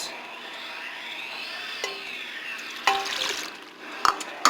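Lemon juice pours into a pot holding fourteen cups of melon for home-canned jam, giving a faint, steady liquid trickle that swells into a louder splashing stretch near the end, with a few sharp clinks.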